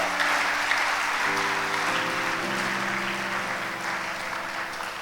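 A church congregation claps and cheers in a sustained, even wash of applause while a low sustained tone runs underneath, with no speech over it.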